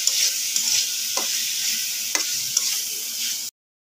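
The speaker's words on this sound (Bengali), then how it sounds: "মাছটা কিন্তু আমি খুব ভালোভাবে মশলার মধ্যে কষিয়ে নিয়েছি।" Shrimp sautéing with spices in a pan for a ridge gourd curry makes a steady hiss, broken by a few scraping stirs of a spatula, before the sound cuts off abruptly near the end; no speech.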